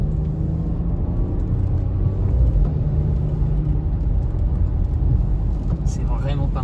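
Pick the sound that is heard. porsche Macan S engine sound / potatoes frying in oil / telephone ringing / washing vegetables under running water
porsche Macan S engine sound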